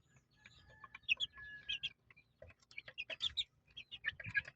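Several chickens cluck and chirp in short irregular bursts, fairly close, with a quiet background and a thin whistle-like tone early on.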